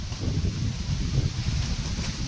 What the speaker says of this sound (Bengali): দারুণ হাওয়া দিচ্ছে আজকে।